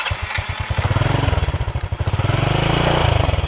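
A 2000 Honda Astrea Supra motorcycle engine idles close by, its rapid, steady putter pulsing evenly with no talking.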